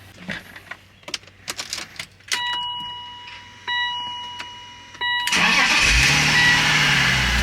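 A Nissan Z sports car engine cranks and catches after some clicks and beeps, then settles into a loud, steady rumbling idle while warming up.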